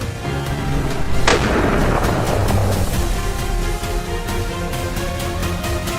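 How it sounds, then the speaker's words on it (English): A single sharp gunshot fired at wild boar cracks loudly outdoors early on, then trails off into steady background noise. "A gunshot cracked, shattering the morning silence."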